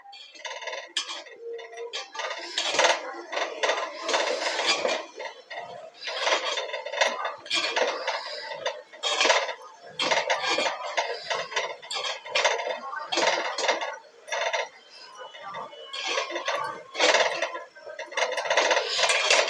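Amla pieces are stirred and turned in a metal pan, giving a steady run of close, loud scraping and clinking of spoon on metal that continues alone without pause.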